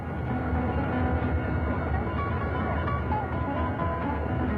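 A steam locomotive hauls the American Freedom Train on its 1976 bicentennial tour, producing a loud, continuous rumbling roll of engine and cars that fills the scene.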